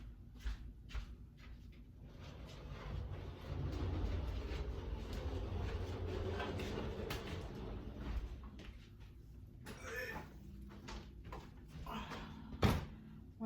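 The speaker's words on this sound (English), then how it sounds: "let's move the trolley" A trolley rolls and rattles across a room as furniture is rearranged, a steady rumbling roll lasting several seconds with scattered knocks and clacks, then sharper bumps near the end.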